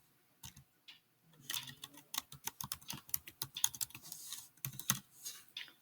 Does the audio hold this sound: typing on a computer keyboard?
yes